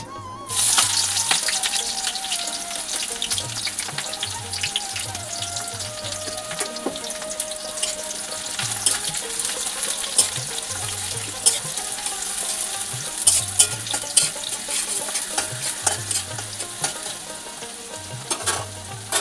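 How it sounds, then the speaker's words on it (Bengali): Onions with fresh green chillies and dried red chillies frying in a pan, a steady close sizzle with repeated stirring scrapes and occasional sharp spatters, running continuously without talk. "এই যে দেখো পেঁয়াজটা আমার ভালো করে ভাজা হয়ে গেছে"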